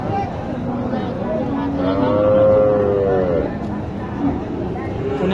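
Cattle moo in a long, drawn-out low call over a steady background of voices and chatter at a cattle market in Naogaon selling Sahiwal and Gir cattle.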